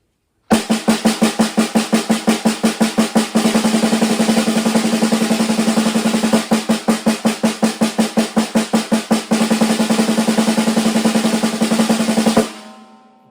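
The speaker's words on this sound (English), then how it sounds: "If I go over to the snare drum, it's going to sound like this" Snare drum played as a fast double bounce exercise, dense repeated pairs of strokes rolling steadily for about twelve seconds, loud and close, ending abruptly with a short ring-out.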